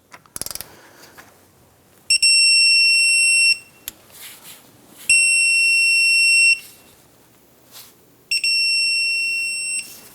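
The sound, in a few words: torquing Jeep Wrangler wheel hub bolts to 75 foot-pounds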